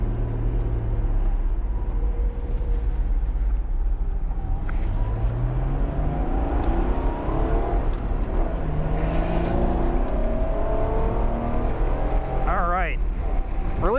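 A race car pulls out onto the track at Oregon Raceway Park, its engine heard from on board, revving and climbing in pitch through gear changes over a constant low road drone.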